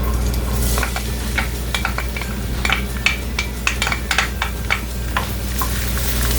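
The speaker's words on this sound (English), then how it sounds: "Fry this garlic in oil." Chopped garlic fries in two tablespoons of hot oil in a pan, a loud, close, dense sizzle with quick scraping and clinking from stirring throughout, no voices.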